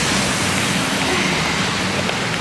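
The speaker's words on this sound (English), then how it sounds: "Oh my gosh, y'all, the rain!" Heavy rain pours down steadily outdoors in a city street, a dense, even hiss with no breaks and no voices.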